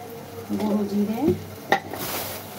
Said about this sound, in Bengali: জিরে দিচ্ছি,